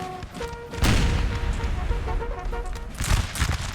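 Massed musket volleys and booming cannon fire from a Napoleonic battle at the Siege of Toulon in 1793, played out in Napoleon Total War: a dense, continuous roar of overlapping shots, with heavier blasts near the start and again toward the end.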